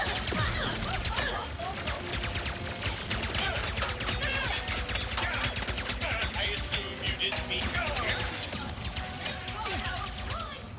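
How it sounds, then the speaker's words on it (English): Enemies in Ratchet and Clank: Rift Apart spraying rapid fire, a dense, steady rattle of shots running for the whole stretch under ongoing talk and game effects. "These guys are pretty annoying as well, because they got that rapid fire."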